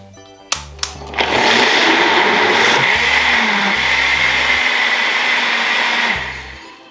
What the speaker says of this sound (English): I'm just going to blend it, but I'm not going to blend this for long